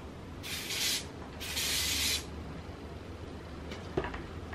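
Two short bursts of hair lacquer hiss from an aerosol can onto styled bangs, close and fairly soft, followed by faint handling rustles.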